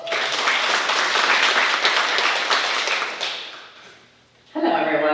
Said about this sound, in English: Let's hear it for Dawne.